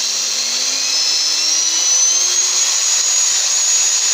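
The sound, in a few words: electric motor rotor with carbon brushes running on test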